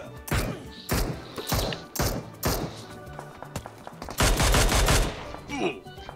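Gunfire in PUBG Mobile, with repeated sharp shots in bursts followed by a denser, louder volley near the end, close and punchy over a constant background.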